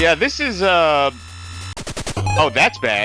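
Character death sound from the NES game Frankenstein: a burst of rapid crackling, gunfire-like noise and sweeping electronic tones, with people talking over and around it.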